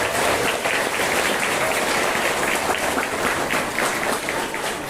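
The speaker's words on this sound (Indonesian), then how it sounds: "Tepuk tangan untuk anak-anak kita yang sudah mengenal" An audience at an Islamic sermon during an Isra Mi'raj gathering at an Islamic boarding school claps for the children, a dense, steady burst of applause filling the room throughout.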